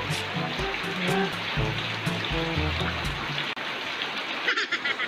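Steady rain patters and splashes close by as a child bathes in it, a dense continuous hiss with droplets hitting a surface, alongside faint tonal background sounds.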